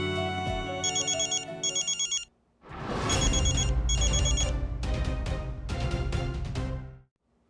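A telephone rings late at night, a loud electronic ringtone repeating in bursts with a short gap before it resumes and then stops.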